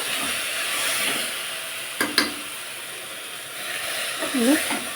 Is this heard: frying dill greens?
yes